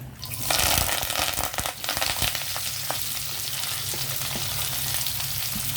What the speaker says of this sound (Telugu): కరివేపాకు వేయడం వల్ల చిప్పట్లాడిందనమాట